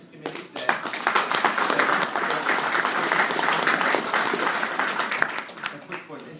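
Sustained audience applause at a Libertarian Party of Virginia state party address, dense steady clapping from a large crowd that swells quickly and holds loud throughout before tapering slightly at the end.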